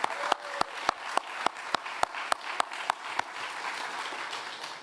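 At the 2023 Downtown DC annual meeting, a crowd gives Rachel Rose Hartman a round of applause, with sustained clapping through the room and one close, sharp clapper keeping a regular beat before easing off.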